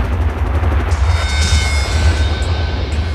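A violent explosion rocks the burning Piper Alpha oil platform, a loud sustained rumbling roar with crackling bursts and deep low-end thunder, no voices over it.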